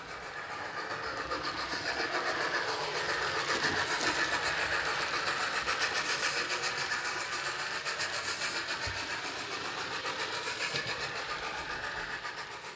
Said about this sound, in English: the train is sent round the reverse loop to correct this